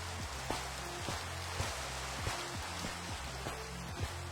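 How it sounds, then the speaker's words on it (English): Rain falls steadily in a video game, a soft continuous hiss with faint tonal sweeps and ticks drifting through the background. "I swear it's been raining more."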